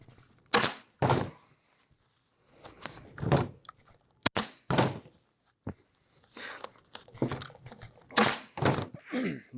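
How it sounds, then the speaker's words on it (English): A pneumatic air stapler fires staples into a workpiece on a workbench, giving a string of sharp, close, percussive snaps at irregular intervals with quiet gaps between them. "Looks like this air pressure is just perfect. It's not shooting the staples too far in there."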